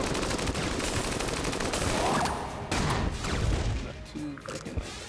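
Flaming bullets fired from a gun in the video game Enter the Gungeon, a dense, continuous stream of rapid shots and impacts over busy game noise, loud throughout and thinning slightly near the end.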